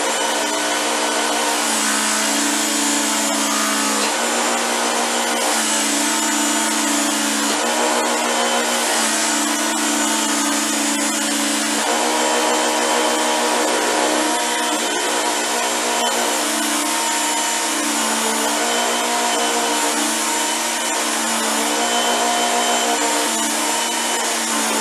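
An electric belt knife sharpener works a pocket knife, giving a loud, steady motor drone with grinding and a few small shifts in pitch throughout, with no talking.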